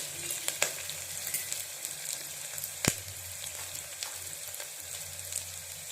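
Turmeric and spices roasting in a hot pan with salt: a steady, even sizzle with a few sharp stirring clicks, close and alone.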